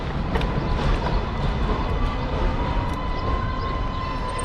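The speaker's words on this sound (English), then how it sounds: "the number 7 train, the famous number 7 train" The New York number 7 train rolls past on elevated track in Flushing, Queens, a loud, steady rumbling roar with a thin metallic squeal riding over it, heard nearby from a bicycle.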